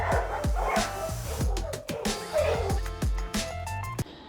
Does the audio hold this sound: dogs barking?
yes